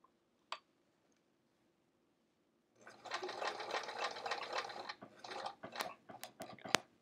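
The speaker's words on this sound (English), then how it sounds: "I can fold it up and throw it through my machine." A sewing machine stitches through a folded travel art folio with its handles being attached. It runs in a close, fast mechanical whir for about two seconds and pauses, then gives a shorter burst with a few sharp clicks after a quiet start.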